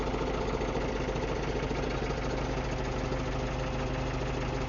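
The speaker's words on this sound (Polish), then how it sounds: "Wyłączę silnik, bo hałas." Claas Axos 320 tractor engine idling, a steady loud diesel rumble with a fast even knock that continues throughout with no talk.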